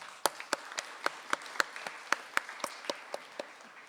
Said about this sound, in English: Can we give the chamber a round of applause as well?